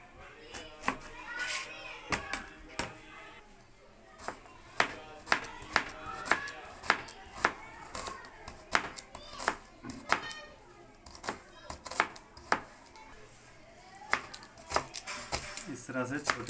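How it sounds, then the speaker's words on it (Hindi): A knife chops coriander into small pieces on a board for egg fried rice, giving a fast run of sharp, close cuts with short pauses, under soft background chatter. "धनिया काटेंगे"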